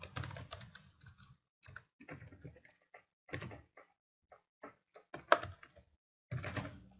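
Keys clatter on a computer keyboard as a CAPTCHA code is typed, short bursts of close clicks broken by pauses in a quiet room.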